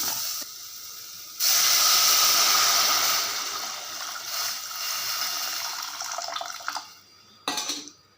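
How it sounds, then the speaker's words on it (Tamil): A loud burst of hissing steam as tamarind water hits a hot pan while cooking rasam, settling into a softer sizzle that fades, with a few clinks near the end. "இப்போ புளி தண்ணியை எடுத்து நம்ம ஊற்றிடலாம்"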